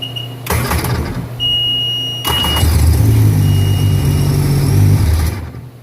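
A 2002 Sea-Doo GTX 4-Tec jet ski with a 4-Tec engine and nine-year-old fuel in the tank cranks with a short starter whir, stalls, then catches and settles into a loud, steady running drone.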